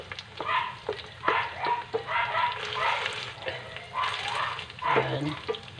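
Burger patties fry in a pan with a crackling sizzle and scattered sharp pops, while someone talks over the cooking.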